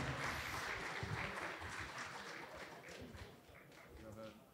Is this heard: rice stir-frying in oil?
no